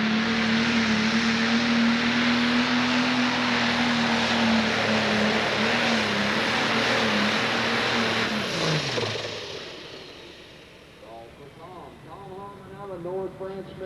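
A Preparation H pro stock pulling tractor roars loud and steady at a 1995 Connersville, Indiana 10,000 lb. pull, its engine drone sliding down and cutting out after about nine seconds, then fading as a voice speaks over it.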